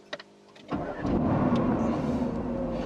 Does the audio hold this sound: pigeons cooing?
no